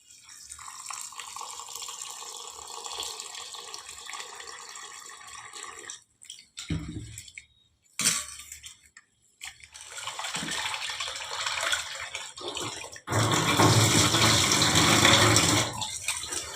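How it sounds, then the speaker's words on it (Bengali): Rice for fried rice washed under a running kitchen tap, water gushing and splashing steadily with a few brief pauses and a louder, fuller stream toward the end. "তো আমি আগে চালটা ধুয়ে নিই। ফ্রাইড রাইসের চাল আমি আগে ধুয়ে বসিয়ে দেবো।"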